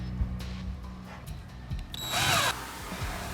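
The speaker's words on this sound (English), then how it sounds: "Now I'm gonna drill 4 pilot holes so that I know where I can put my anchors." Power drill boring pilot holes for wall anchors into a wall with no stud, a steady close whine that climbs in pitch and loudness near the end before stopping.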